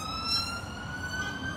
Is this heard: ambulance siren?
yes